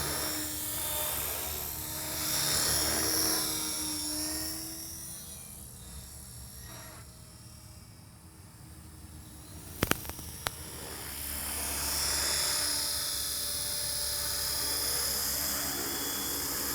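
Steady drone of an RC helicopter's rotor spinning at constant speed, fairly loud and continuous with slight swells in level and a couple of brief sharp clicks near the middle.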